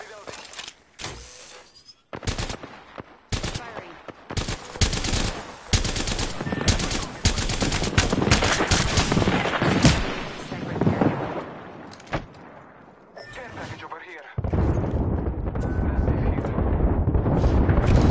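Loud, dense gunfire in the battle royale shooter Apex Legends comes in rapid automatic bursts and single cracks, almost continuous with brief pauses, mixed with game effects and broken up by a voice speaking.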